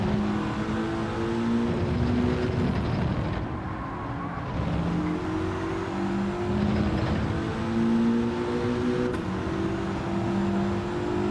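A race car engine in Gran Turismo 7 revs hard and continuously, its loud droning tone rising and falling through the gears as the car laps the track, with no talk over it.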